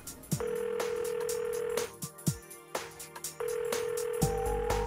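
A phone call rings in Persona 4, the video game, as a steady electronic ringing tone repeated in bursts over background game music.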